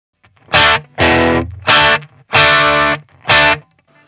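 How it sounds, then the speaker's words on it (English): Electric guitar through a Boss Katana amp patch plays five loud, distorted chord stabs, each ringing briefly before a clean stop and short gap, with no one talking. "I feel distortion on the top of the sound rather than the low notes seem to be cleaner."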